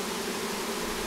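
Dense, continuous buzzing of a honey bee swarm close by, a steady droning hum with no pauses and no voices.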